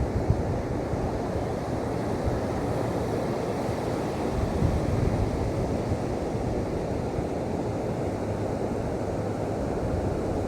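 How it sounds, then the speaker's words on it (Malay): Ocean waves roll and break steadily along Pantai Kemasin beach, a continuous loud wash of surf with wind buffeting the microphone throughout and no voices. "Ombak bergulung-gulung."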